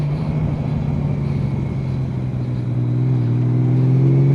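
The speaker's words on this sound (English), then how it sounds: "that was a 2-to-1 downshift" A Honda Valkyrie motorcycle engine rumbles through a 2-to-1 downshift, a steady low drone whose pitch steps up slightly as the gear drops, heard close with wind noise and no talking.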